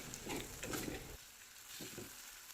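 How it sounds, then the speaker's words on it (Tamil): Tomatoes sautéing in a pan for vallarai keerai chutney, a faint, steady sizzle with soft stirring scrapes over continuous frying hiss. "உப்பு சேர்த்துட்டு நல்லா வதக்கி விட்டுக்கலாங்க"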